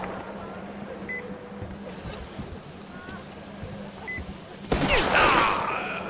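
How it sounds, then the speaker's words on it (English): Gunshots ring out in the Metro Exodus video game: sparse, faint distant cracks over a low ambient hum, then a louder sudden burst of shots near the end, with brief beeps along the way. "where are the shots coming from?"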